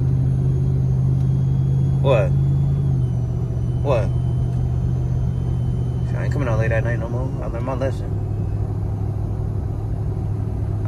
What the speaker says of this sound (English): And today I'm in my truck, not the other car.